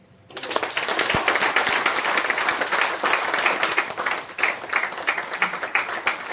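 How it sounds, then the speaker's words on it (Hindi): Seminar audience breaking into sustained applause, a sudden loud burst of many hands clapping that holds steady for several seconds, then thins into looser, uneven claps near the end. "हमारे गुरुदेव जी एक बार ताली बजाएंगे सर"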